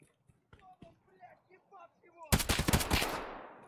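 An enemy in Escape from Tarkov opens fire on the player with a sudden loud, rapid burst of gunshots after a quiet stretch of faint voice and small sounds.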